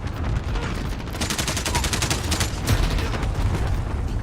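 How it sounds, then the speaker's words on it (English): Cluster strike explosions and gunfire in a shooter game, a rapid rattling barrage of bursts rolling on and on, loud and dense with no pause. "Bro, what's with the fucking cluster strikes?"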